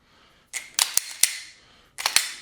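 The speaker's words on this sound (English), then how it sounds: "So slow trigger pulls, I'm getting my sights and pulling the trigger." Dry-fire slow trigger pulls on a pistol during practical shooting training: sharp, close mechanical clicks, a few quick snaps in one cluster and then another pair, with quiet gaps between.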